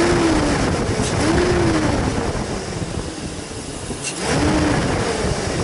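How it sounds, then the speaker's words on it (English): Chevrolet Silverado with a misfire, engine revving as the throttle is snapped: a steady loud idle with three brief rising-and-falling rev bursts spaced across several seconds. "just snap the throttle. It's always the same on all cylinders."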